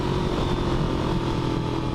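A Despatch Tracker motorcycle's engine hums steadily while the bike is ridden, a continuous rumbly drone mixed with wind noise, with no talking.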